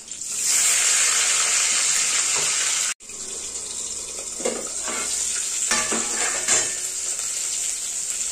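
Close and loud, a large fish head fries in oil with a dense, continuous sizzle and scattered crackles and pops. The sound cuts out for a moment, then resumes as agitated spattering.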